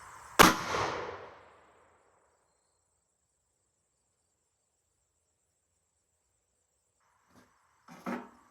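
A single loud, sharp report from a Ruger GP100 5-inch .357 Magnum revolver firing a Sierra 158-grain JSP bullet into a clear ballistic gel block, ringing briefly and fading, then silence and faint clicks and handling noises near the end.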